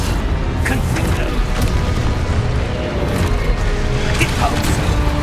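Spell effects from the game Hogwarts Legacy crash and boom in quick succession, with clattering impacts and bursts layered over a dense, loud mix and some shouting voices.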